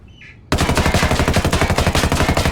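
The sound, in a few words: P416 assault rifle firing with recoil compensation, video game Ghost Recon Wildlands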